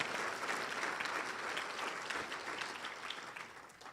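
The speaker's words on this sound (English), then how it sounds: "That's a bigger applause than I got." A crowd at a Rotary luncheon claps steadily and warmly, a sustained round of applause that fades slightly toward the end.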